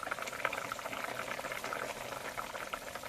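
Fish curry bubbling steadily in a pot as it finishes cooking, a continuous close hiss and crackle of boiling liquid with no pauses.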